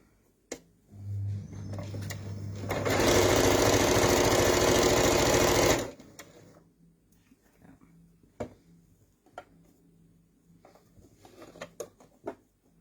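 A regular sewing machine sews a seam on an infinity scarf, its motor whirring in one steady, fairly loud run of about three seconds, framed by scattered light handling clicks and thumps.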